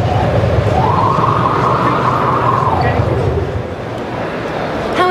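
A synthesized futuristic space sound from an electric car: a sustained whooshing tone that swells upward, holds, then glides down, loud and continuous over a low rumbling background.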